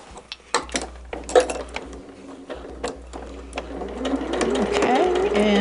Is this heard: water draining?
no